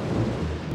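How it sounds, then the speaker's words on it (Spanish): Cartoon thunder from an approaching rainstorm, a low, continuous rumble heard alone and fairly loud for under a second. "Mami, oímos un ruido muy extraño. Es una tormenta, Peppa."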